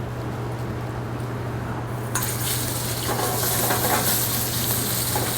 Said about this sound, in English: So I'm going to start off with a hot pan here with some olive oil, and then I'm going to season this with some salt and pepper.